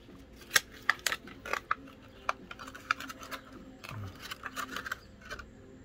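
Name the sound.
opening hard plastic packaging of Philips OneBlade shaver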